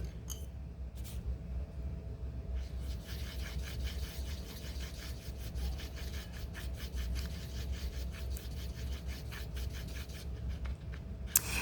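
Paint colors being mixed by hand, a soft, continuous scraping and rubbing that goes on at a low, steady level, with faint rhythmic strokes close up and no voice over it.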